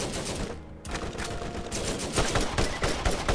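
A saber turret in Borderlands firing rapid bursts of gunfire, a dense loud automatic rattle that starts abruptly and keeps hammering with near shots throughout.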